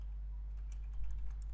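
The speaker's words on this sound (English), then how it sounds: "what I'm just typing is the select tag" Computer keyboard typing while writing a Bootstrap horizontal form, a quick light cluster of key taps over a steady low electrical hum.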